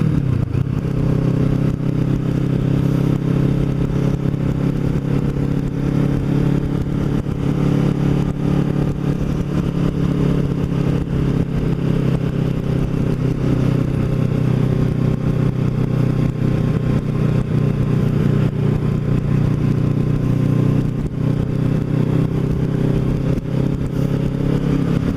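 A Kawasaki Ninja motorcycle cruising along a road toward Cape May, its engine droning steadily and loudly with constant wind roar and no break in the sound.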